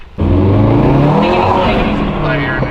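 A Volkswagen MK7 Golf R accelerates hard from a standstill, its engine note surging loud and close and climbing steadily in pitch for a couple of seconds, then easing slightly.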